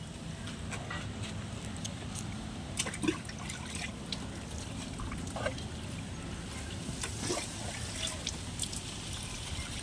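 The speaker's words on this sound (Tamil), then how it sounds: "இப்போ இதுக்கு தண்ணி ஊற்றி விட்டுறலாம்" Water is poured from close range onto a freshly planted spot of garden soil, making a steady, continuous trickle and splash with no talking.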